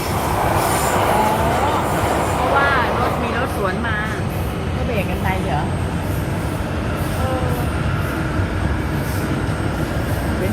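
Loud, steady rail noise from train wheels pressing on the track in Belgium, a continuous roar with squealing wheel tones throughout, as a voice talks over it.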